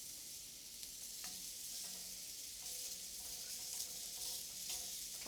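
Squash and potatoes cook in a pan for a steak-and-vegetables dinner, making a soft, even hiss of sizzling that runs throughout, with a few faint clinks and no voices.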